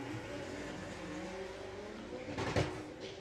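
Front-wheel-drive and rear-wheel-drive Volkswagen drag cars launch side by side at Santa Pod Raceway during a VW drag racing meet, heard as a steady distant engine drone that rises into a brief louder roaring burst near the end.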